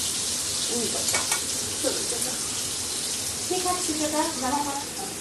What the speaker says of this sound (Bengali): বাবা তেল ছুটে আসবে একটু দূরে দূরে থাকো